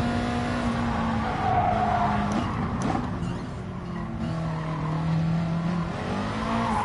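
Race cars including a Corvette and a Ford GT in Gran Turismo Sport, engines droning steadily with rising and falling revs and tire squeal, close and moderately loud with no talking.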